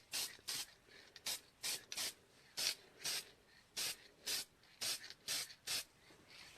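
Short bursts of white spray paint from an aerosol can, about a dozen hissing sprays in an irregular rhythm, close and fairly quiet, with no talking.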